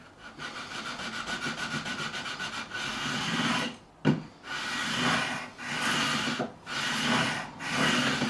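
A 400-grit 9.5 radius sanding block scrapes along a Fender Jazzmaster's Staytrem bridge saddles in long, steady rubbing strokes, with rapid short strokes first and then several longer passes separated by brief pauses.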